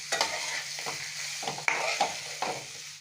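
Diced potatoes sizzle in oil in a pan for a simple, spice-free aloo charchari. A spatula stirs them several times, each stroke a sharp scrape over the steady close frying.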